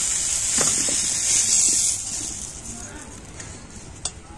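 Potato and pumpkin pieces fry in a pan with salt and turmeric, a steady hiss and sizzle with a few stirring scrapes, the sizzle fading softer after a couple of seconds.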